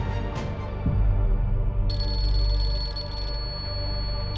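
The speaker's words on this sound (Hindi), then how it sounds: "अम्मा का फोन" A telephone rings loudly and steadily in a domestic drama scene, its bright electronic tone cutting in partway through and continuing over low background room sound, with no talking.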